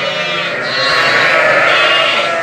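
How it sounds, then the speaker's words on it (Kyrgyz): A male Hissar lamb gives one loud, close, drawn-out bleat that rises slightly and holds steady to the end. "Бул да эркек козу"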